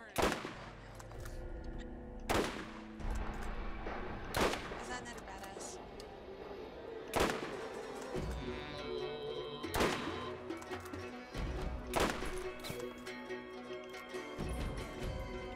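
SMG gunfire in the video game Borderlands: sharp, loud broadband bursts at irregular intervals over a dense game soundscape, with some talk in between.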